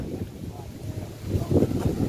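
Wind blows outdoors, buffeting the microphone with a steady low rumble that swells in gusts toward the end, with faint voices underneath.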